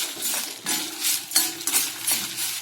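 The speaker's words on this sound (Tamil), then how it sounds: "ரெண்டையும் வெறும் வானல்ல எண்ணெய் ஊத்தாம வறுத்துக்கலாம்" Coriander seeds dry-roast in an oil-free pan for white pumpkin sambar, giving light rattling, clinking and scraping as a spoon stirs them in short bursts, close and fairly clear, with no talking.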